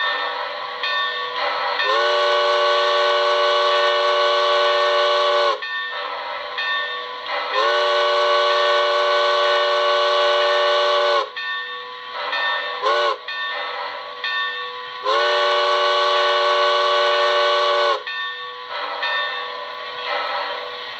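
Soundtraxx Econami steam DCC decoder on a model train, its whistle voiced after the 4501, sounding a grade crossing sequence: four loud, sustained chime-whistle blasts, two long, one very short, then one long, over a steady clanging bell, with no talking.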